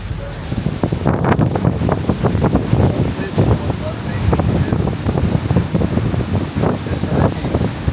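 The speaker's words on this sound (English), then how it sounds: "look at the water rushing through" Hurricane storm surge water rushes and sloshes on Gulf coast while strong wind buffets the microphone, a continuous turbulent roar with choppy bursts, close and loud.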